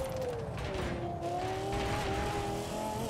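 A Lexus LFA in Forza Horizon 4 revs hard with a high, smooth engine whine that climbs steadily and stays loud and close throughout, with no talking.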